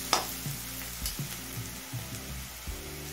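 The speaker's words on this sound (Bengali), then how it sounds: "পেঁয়াজটা মিনিট 5-6 সময় নিয়ে হালকা লাল করে ভেজে নিয়েছি।" Sliced onions fry in a pan with an even, moderate sizzle, broken by a sharp clink near the start and a few soft knocks of stirring, and no voices.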